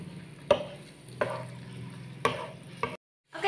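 Chicken fries in a pan for kwetiau goreng, with a low steady sizzle punctuated by several sharp utensil clacks and stirring scrapes at uneven intervals, and a brief drop to silence near the end.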